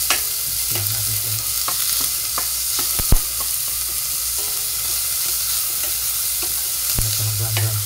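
Onions sautéing in a pan over lowered heat while being stirred, a constant sizzle broken by scraping utensil strokes and a few sharp clacks against the pan, close and alone without speech.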